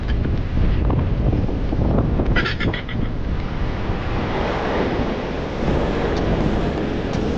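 Strong sea wind buffets the microphone continuously at a fishing spot by choppy, high-wave water, a loud, steady roar with no talk.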